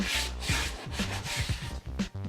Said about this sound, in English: It's a whole lot of sanding on all 6 sides of every little piece